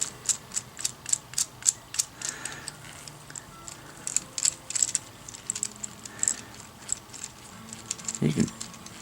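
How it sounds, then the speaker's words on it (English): Clicking and ratcheting of a one-piece 3D-printed adjustable clamp as its angle and spread are changed, a series of sharp, close plastic clicks in irregular bursts with a faint voice in the background. "It is an adjustable clamp."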